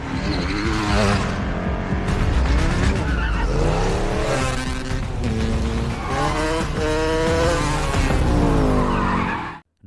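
In a film chase, a car speeds after a motorcycle with tires squealing and skidding repeatedly over a loud, roaring engine, the screeches rising and falling close up before cutting off abruptly.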